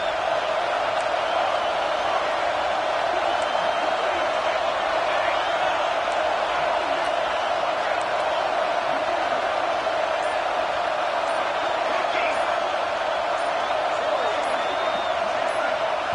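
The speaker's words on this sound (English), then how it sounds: "with this place rocking, the crowd forces a false start" A college football stadium crowd roars loud and constant around a false start, with no let-up across the stretch and a commentator talking over it.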